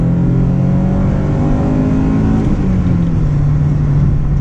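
2004 Honda Civic Si engine pulling hard through first gear into VTEC, a loud continuous rising engine tone heard from inside the car, with no talking.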